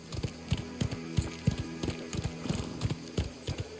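Horse hooves clip-clop at a steady walking pace in the video game Mafia: The Old Country, close and distinct over a low ambient hum.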